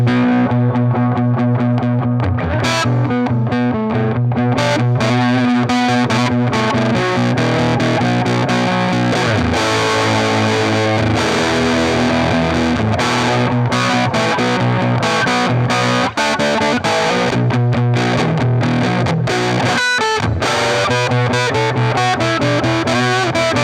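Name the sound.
electric guitar, Reverend Sensei Jr P90, cranked amp, slapback reverb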